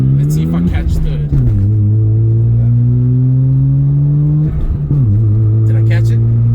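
A Mazda RX-7 engine revs loudly and steadily, its pitch climbing, then dropping sharply at a gear change into third and climbing again, with brief dips where the driver shifts.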